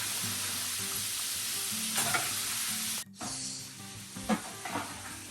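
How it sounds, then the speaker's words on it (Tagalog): Homemade french fries sizzle steadily in hot oil in a home kitchen, with stirring and a couple of brief clattering knocks over the constant frying hiss. "Ang merienda namin, french fries na homemade."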